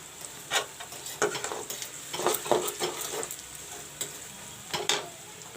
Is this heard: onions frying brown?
yes